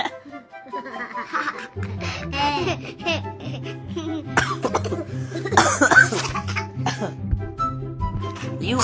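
A child coughs several times amid lively talk and some giggling, with a steady low hum running underneath.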